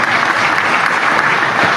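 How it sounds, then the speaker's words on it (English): Sustained applause at an election count centre during the 2020 general election in Donegal, a dense, even wash of many hands clapping throughout. "a round of applause"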